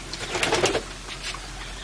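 Pigeons on a farm give a short run of soft cooing pulses that fade out into steady low background hum, with no voices.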